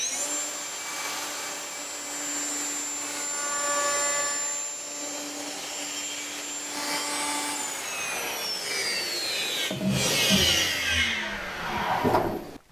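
A router or similar power tool trims a wooden piece along a multi-curve woodworking template, a steady whining motor hum that holds for several seconds before shifting pitch and ending in a louder burst of cutting noise.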